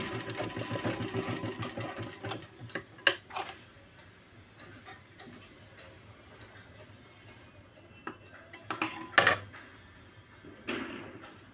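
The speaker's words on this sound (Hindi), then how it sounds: "मैंने क्रोश पट्टी का, देखिए दोस्तों, सिलाई करने जा रही हूँ।" A sewing machine stitches crochet lace onto a puff-sleeve double katori blouse, its rapid ticking needle running in close bursts with short pauses, stops and a few handling knocks between runs.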